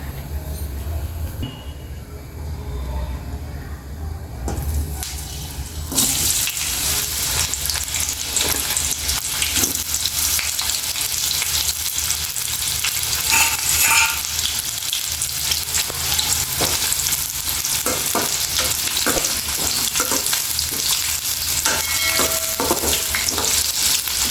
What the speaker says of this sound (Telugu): ఆయిల్ వేసేసుకుందామండి ఫ్రైకి